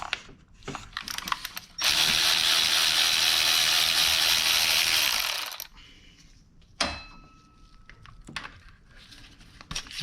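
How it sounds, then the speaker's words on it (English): A ratchet removes bolts from a 2012 Honda Accord V6 engine, making a close, loud, continuous clicking run of about four seconds, with lighter tool handling sounds around it. "We take these 2 bolts off."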